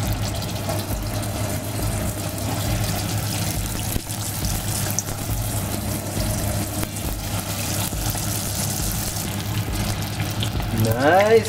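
Lumpiang shanghai spring rolls frying in hot oil, a steady dense crackle and hiss that holds throughout, close and fairly loud, with faint kitchen sounds in the background.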